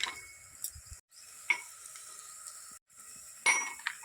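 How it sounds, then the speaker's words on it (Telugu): Ginger garlic paste frying in a pan for an Andhra-style country chicken curry, a faint, steady sizzle broken by a couple of brief gaps and occasional spoon scrapes, quiet and close without speech. "పచ్చి వాసన పోయేంతవరకు అల్లం వెల్లుల్లి పేస్ట్ వేయించుకోవాలి"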